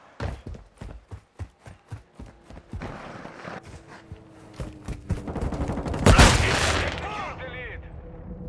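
Gunfire rings out in Call of Duty: Modern Warfare II as a steady rhythm of single shots that builds into louder, denser firing and a heavy blast near the end, with voices calling out amid the fight.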